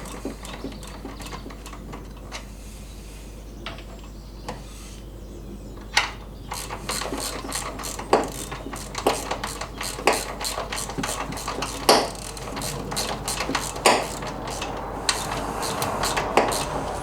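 A screwdriver tightens the battery mount fixing on an MGB in close, quiet repeated clicks and ratcheting turns, growing more regular in the second half.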